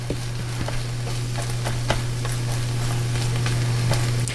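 Scrambled eggs sizzle steadily in a frying pan, a continuous close crackle with scattered small pops and a low steady hum beneath, no voices.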